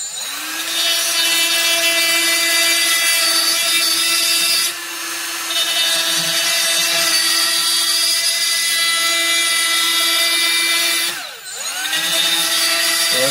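A high-speed rotary tool with a carbide bit grinds the ports of an Echo 7310 chainsaw cylinder, a loud, steady whine close by that dips briefly twice as the bit bites into the metal, with no talking.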